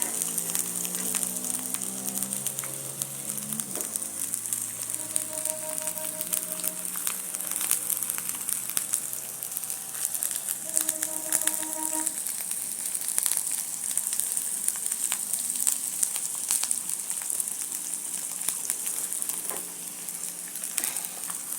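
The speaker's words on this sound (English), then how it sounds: "So my pan is already hot. I'll go ahead and put in some oil, some cooking oil, and then I'll add onions." Onions fry in hot cooking oil in a pan, giving a steady, even sizzle that runs the whole time beneath soft background music.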